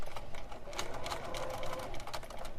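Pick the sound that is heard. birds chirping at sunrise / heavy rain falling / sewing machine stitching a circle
sewing machine stitching a circle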